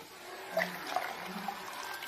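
Boiling water poured from a cup onto mango jelly powder in a home kitchen, a soft steady splashing and trickling with a few faint clinks, quiet and alone.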